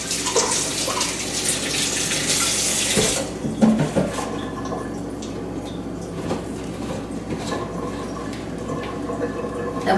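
Water running from a kitchen tap for a quick rinse, a steady hiss of flow that cuts off after about three seconds, followed by faint clatter and kitchen handling sounds.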